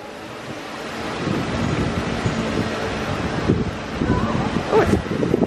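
Steady wind blusters against the microphone outdoors in Paris, with a rushing, surf-like roar that swells and gusts throughout.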